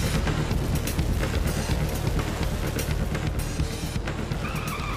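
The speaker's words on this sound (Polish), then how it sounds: "Auto do wyścigów równoległych rozpędza się do 160 km na godzinę w 2 sekundy." A drag racing car capable of 160 km/h in two seconds roars hard under acceleration, a loud continuous engine blast with rough mechanical texture and no talk.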